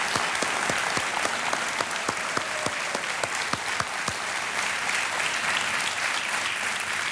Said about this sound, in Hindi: तालियों के साथ हम इनका अभिनंदन करते हैं।